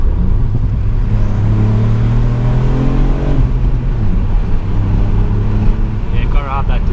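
A 2019 Ford Fiesta ST MK8 engine revving up and easing off, with loud droning harmonic tones that climb, then drop sharply midway, heard close amid road and wind rumble.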